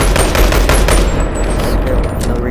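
Rapid automatic gunfire from a rifle in a VR shooting game on a Quest 3 rattles in a loud, dense burst that fills the whole moment, with no talk over it.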